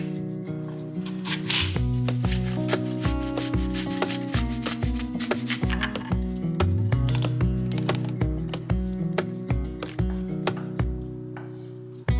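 An apple being grated and then cut, with a rapid rhythmic rasping of strokes against the grater, steady and close, with a few sharper clicks mixed in.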